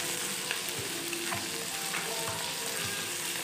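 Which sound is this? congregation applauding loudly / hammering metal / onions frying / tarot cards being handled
onions frying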